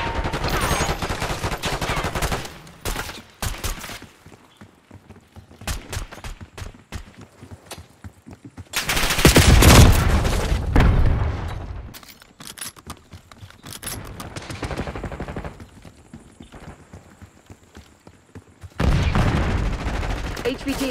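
Gunfire in the Call of Duty Black Ops 6 multiplayer game on the Nuketown map: rapid automatic bursts and single shots come in several loud clusters, with game voice lines heard between them.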